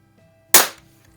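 A Crosman 760 air rifle fires a pellet after ten pumps, a single sharp crack with a short fading tail, close and loud after near silence.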